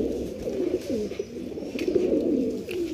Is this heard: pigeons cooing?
yes